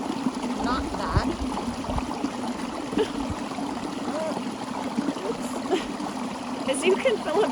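A flowing stream in Greenland trickles and gurgles steadily close by, a soft, continuous water sound with occasional brief louder splashes.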